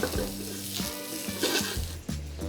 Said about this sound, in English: Now in the same pan we cooked the steak in, give a light saute to my bok choy, my carrots, and mushrooms.